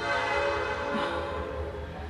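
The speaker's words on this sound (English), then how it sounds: "there's a train going by" A train rumbles past at a moderate distance with a steady, droning roar and a faint horn-like tone holding throughout.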